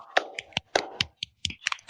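A handful of sharp, irregular hand claps from one nearby person, spaced unevenly over a couple of seconds with short silences between, no talking.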